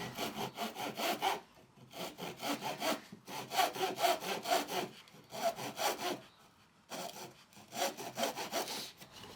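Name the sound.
hand saw cutting a half lap in wood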